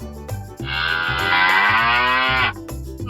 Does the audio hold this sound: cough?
no